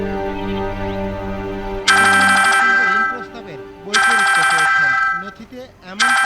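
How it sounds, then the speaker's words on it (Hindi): A telephone rings in two loud, sustained bursts with a pause between, while people talk nearby before and after the rings. "ईश्वरी जी का फोन"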